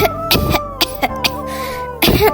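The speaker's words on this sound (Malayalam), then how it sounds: "ചെറുതായിട്ടൊരു ചുമ വന്നതാ" Several short coughs and throat-clearing bursts come in quick, irregular succession, loud and close, with brief pauses between them and one final harder cough.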